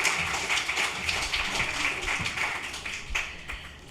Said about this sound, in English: give them another round of applause to welcome them